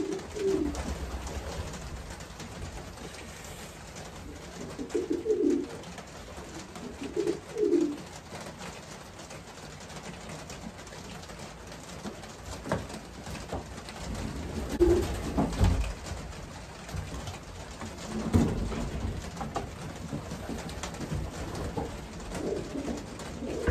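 Pigeons cooing softly in a loft, with low repeated coos spaced every few seconds over a steady background hiss and rustle.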